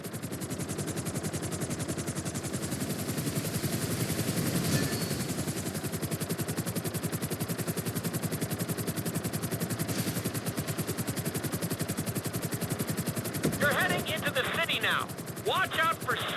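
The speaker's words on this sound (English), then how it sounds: "You need to keep the aircraft off the ground." Aircraft in GTA V during a flight school lesson: a steady, loud engine drone with a fast rhythmic chop holds throughout, with a voice briefly speaking near the end.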